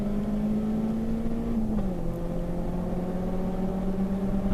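A Nissan Sentra SSS race car with an SR20-type engine of about 180 horsepower drones steadily on track at Hampton Downs, a sustained engine tone that dips briefly with a gear change and then carries on.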